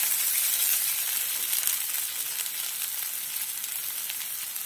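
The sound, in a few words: ground masala paste sizzling while being sautéed in oil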